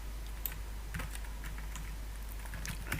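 Someone types code on a computer keyboard while building a try-catch block. The keystrokes come as soft, scattered clicks at an uneven pace over a steady low hum, with no voice.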